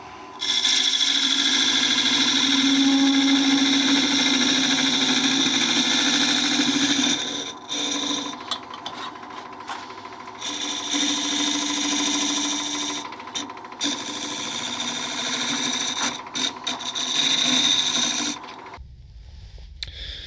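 A chisel trims the lip of a small wooden tulip spinning on a woodturning lathe, a steady close hiss and scraping whine that runs unbroken, dips and resumes in several passes, then stops abruptly near the end.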